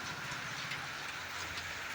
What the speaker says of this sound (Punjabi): ਵੇਖ ਲਓ ਬਾਜ਼ਾਰ ਦਾ ਹਾਲ ਮੀਂਹ بارش ਵੇਖ ਲਓ